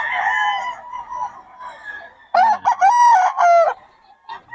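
Lemon sweater gamefowl roosters at a farm in Bocaue crow loudly and clearly, one long call after softer clucking and background crowing, with another bird answering faintly near the end.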